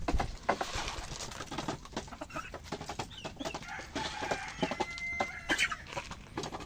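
Several chickens cluck and murmur nearby, with scattered squawks and soft coos over a faint farmyard background.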